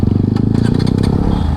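A motorcycle engine, a bike that had trouble starting and was low on petrol, catches and runs with a steady, loud, close low rumble and some clattery mechanical noise throughout.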